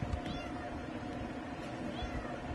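A cat meows a few times against a steady low background hum, the calls faint and mixed with a person calling out nearby.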